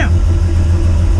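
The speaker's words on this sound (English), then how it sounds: "we got a cold start here because this has been running since when I started it on Friday" Truck engine idling steadily after a cold start, a continuous low rumble close by with a constant level throughout, the vehicle fitted with a 14 bolt axle.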